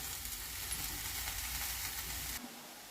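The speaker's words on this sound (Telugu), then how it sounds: "ఇప్పుడు ఇందులో ఆయిల్ వేడెక్కింది. కొత్తిమీర వేసేస్తున్నాను. దీన్ని బాగా వేయించుకున్నాము." Coriander leaves sizzle steadily in hot oil while frying for a coriander pickle, a dense, even crackle that holds loud and close before cutting off abruptly near the end.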